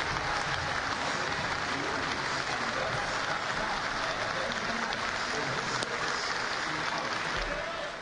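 A large baseball crowd at an Orioles ballpark applauds between innings, a dense, steady wash of clapping that holds evenly for several seconds, with some crowd murmur mixed in.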